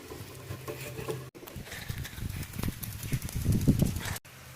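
Rain falls outdoors, producing a close, uneven patter of drops that swells toward the end, with two brief cutouts where the sound drops away.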